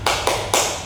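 Three sharp, evenly spaced hand claps from a classroom clap routine, quick and crisp, each with a short ringing decay in the room.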